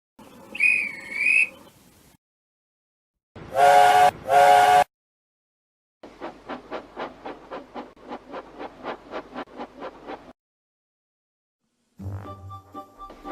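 A guard blows a train whistle at a station, giving two shrill separate blasts, then a rapid trilling run of short pips, and then a brief closing sound.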